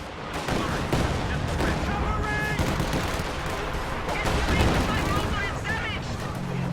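Katyusha rocket barrage in the Company of Heroes 2 video game, a dense, loud, continuous stretch of rapid detonations and gunfire with someone commentating over it.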